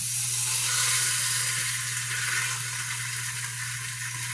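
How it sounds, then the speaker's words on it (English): Half of a beef roast seared in an Instant Pot sizzles loudly and close, a steady bright hiss with a faint low hum underneath, lasting throughout with no voices. "I'm just going to put it right here in the Instant Pot"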